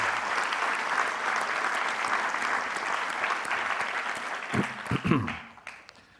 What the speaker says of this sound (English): I think we can give ourselves a round of applause.